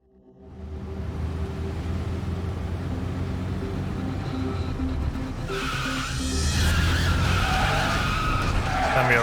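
Race cars in the video game Judgment, engines building from quiet to a loud, sustained roar, then tires skidding and squealing sharply over the engine noise in the second half.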